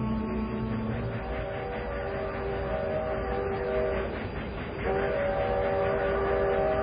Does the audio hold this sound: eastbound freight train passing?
yes